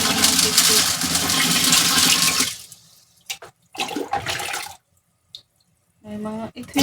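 Water gushes and splashes steadily as it is poured into a new home aquarium, then stops and returns in short bursts, while people talk nearby.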